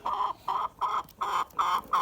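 Bielefelder chickens cluck in a steady run of short, repeated bursts, fairly close and clear, with brief pauses between calls.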